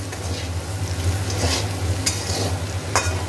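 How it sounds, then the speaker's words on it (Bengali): Potatoes sizzle steadily in a pan while a spatula stirs them, with a constant low frying hiss, occasional scraping sweeps and a couple of sharp clicks against the pan, close up and with no talking. "একটু ভাজা হোক"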